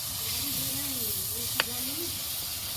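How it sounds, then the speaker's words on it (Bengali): Jalebi fry in hot oil, a steady broadband sizzle and hiss with a low hum beneath and one brief click partway through. "জিলাপিগুলো ভাজা হয়ে গেছে"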